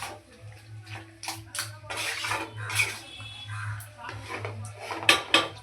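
A cabbage and soya chunk curry is stirred in a pot, a spoon clinking and scraping against the metal in irregular bursts close by, with a steady low hum underneath and a voice talking at times.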